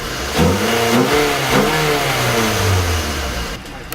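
A car engine runs with a newly fitted part that has raised its idle. It revs up and down several times in rising and falling sweeps, close and loud, with no voices.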